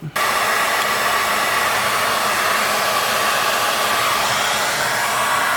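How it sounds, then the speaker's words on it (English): An old regular hair dryer blows continuously and loudly, warming forged carbon interior trim pieces, a steady hiss and whir with no pauses and no talk. "try to use just a regular hair dryer, something old that gets warmed up"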